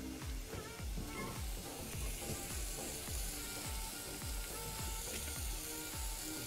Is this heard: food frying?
yes